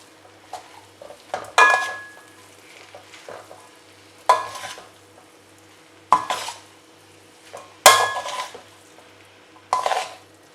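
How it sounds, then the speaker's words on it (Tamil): Masala Maggi noodles, Chinese style, stirred and tossed in a pan, a faint background hum broken by five or six loud, sharp scraping clatters of utensil on metal at uneven intervals, close and without speech. "எல்லாத்தையும் மிக்ஸ் பண்ண போகிறேன்."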